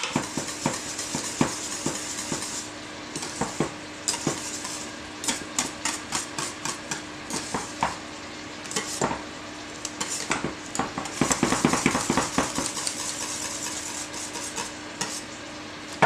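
A spoon stirs a yogurt cake mixture in a bowl, sending out a long run of quick clinks and scrapes against the sides, irregular and fairly close, with a faint steady hum underneath and no speech.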